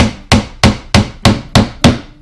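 Seven sharp, evenly spaced hammer blows ring out close by, each a crisp knock as tiny nails go into soft wood, with a short fade before the next strike.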